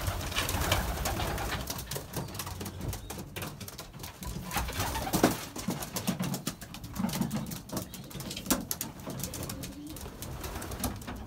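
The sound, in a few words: young birds cooing in a pigeon loft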